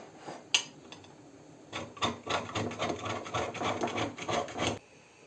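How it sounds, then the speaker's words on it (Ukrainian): A chocolate bar is rubbed against a metal grater in a steady run of close, dry rasping strokes for several seconds, with an isolated knock beforehand and no talking. "Ми цю шоколадку беремо, будемо натирати на ці терці отакі."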